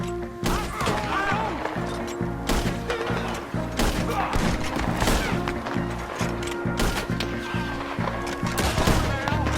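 Gunfire crackles through a Red Dead Redemption 2 shootout, with repeated sharp shots and thuds spread across the whole stretch, loud and dense, while voices talk over the action.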